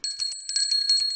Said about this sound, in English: Danny, Susie and Rebecca ring their bells.